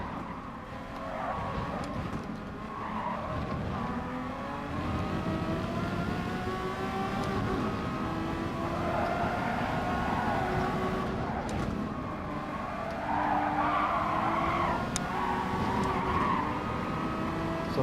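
A Porsche 962 race car in a racing game braking hard at high speed, engine whine dropping through downshifts with tires skidding and squealing repeatedly, loud and up close with no talk over it.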